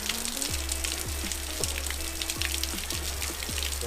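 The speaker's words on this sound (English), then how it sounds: "I didn't really figure on this much rain." Heavy rain pours hard enough to overflow a gutter, a dense steady hiss of drops drumming on surfaces with a repeating low whine running beneath it.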